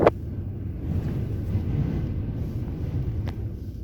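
Steady low wind rumble buffets the microphone, with a couple of faint clicks and no voices.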